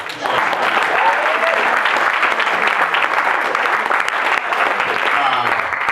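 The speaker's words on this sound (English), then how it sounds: "Another round of applause for her." Wedding guests give a full, sustained round of applause during the maid of honor and best man speeches, many hands clapping loudly and evenly for several seconds with faint crowd murmur beneath.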